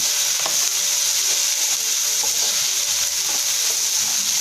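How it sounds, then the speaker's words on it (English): Cauliflower, green peas and carrot frying for momo filling give a steady, loud broadband sizzle with occasional stirring clatter, continuous and close with no talking. "Fry the veggies well."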